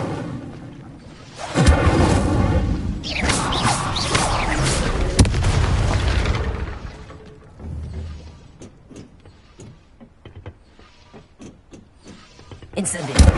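Incendio fire spell cast in Hogwarts Legacy on PS5, a loud whooshing burst of flame with a booming rush, followed by quieter mechanical clicks and game effects, then another surge near the end.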